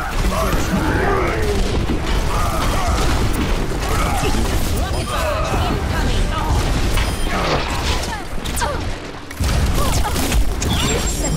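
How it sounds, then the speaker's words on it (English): Incoming rockets explode in a fast-paced early-access multiplayer shooter featuring Torbjorn and his turret: loud, dense booms and crashing bursts pile up over constant gunfire and game noise, with brief voice lines mixed in. "Rocket incoming"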